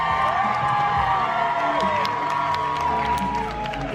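Audience at a Yallfest book festival event cheers, whoops and shouts in a loud sustained roar, with scattered claps and excited voices rising throughout.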